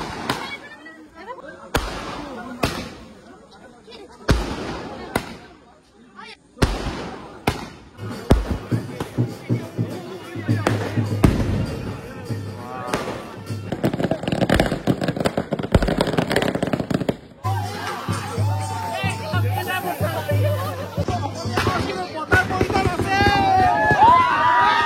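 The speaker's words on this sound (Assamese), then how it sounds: "আৰু এইফালে ফটকা মাৰা হৈছে" Firecrackers set off at night during a wedding: a rapid string of sharp bangs and cracks, some close and loud, with crowd noise and voices talking over the later bursts.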